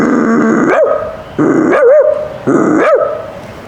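Three deep, rough barks ending in growly rising tails, close and loud, evenly spaced: a performer at a school youth festival imitating a Doberman's bark and growl with his voice.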